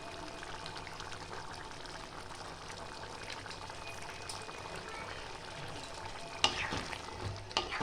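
Dim bhapa in a pan being stirred after garam masala is sprinkled on top, giving a steady low bubbling sizzle with a few louder scrapes and knocks near the end.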